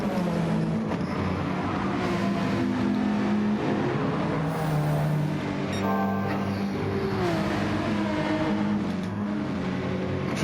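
Race cars, including a Porsche, roar along a circuit at a club race, engines loud and continuous with rising and falling revs as gears change and cars pass close by.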